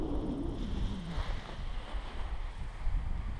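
Strong wind at a paraglider launch site buffets the microphone with a steady low roar and gusty rumble, with no voices.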